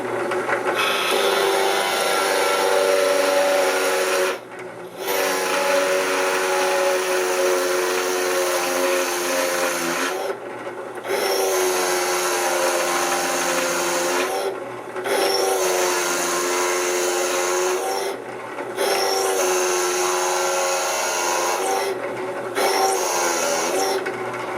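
A plug cutter bores wooden plugs on a drill press, a loud rasping whine in long steady passes broken by several short pauses between cuts, with no talk.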